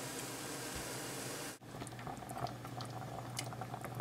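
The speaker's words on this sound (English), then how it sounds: "we got some bubbles going, and you can hear how it sounds" Water simmering in a pot at about 185 degrees with tiny bubbles: a steady, dense fizzing and crackle that holds throughout, with a brief dip partway and scattered small pops afterward, close and moderately loud.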